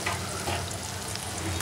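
Rohu fish frying in a pan with oil and ground chili, turmeric and coriander spices, giving a steady close sizzle with faint stirring throughout, no voices.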